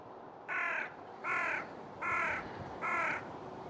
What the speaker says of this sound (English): the cawing of crows